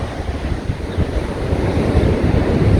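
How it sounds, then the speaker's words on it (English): Ocean surf at Praia do Estaleiros beach on a calm, flat day: a steady, loud wash of waves mixed with heavy wind rumble on the microphone, with no voices. "Pretty flat out there today, the ocean."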